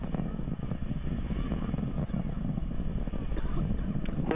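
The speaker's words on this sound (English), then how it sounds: "Two first stage engines firing successfully, carrying Antares through the clouds." Antares rocket climbing through the clouds on its two AJ-26 first-stage engines at launch from Wallops Flight Facility, Virginia, a steady, dense low roar that stays loud and unbroken throughout.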